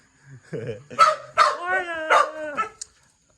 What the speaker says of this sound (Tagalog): May dalawa pala aso doon.